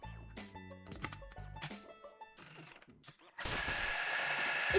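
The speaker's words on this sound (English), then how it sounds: "add equal portions of linseeds, sunflower seeds and almonds into your processor and mill those down" Food processor blades whirring up and milling linseeds, sunflower seeds and almonds, starting after a few clicks and handling noises and then settling into a loud, steady grinding roar.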